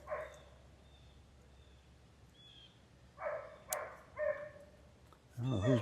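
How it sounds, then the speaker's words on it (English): A dog barks somewhere off in the distance outdoors. Four or five short, faint barks come in a loose cluster partway through, over quiet background noise. "I don't know who's barking."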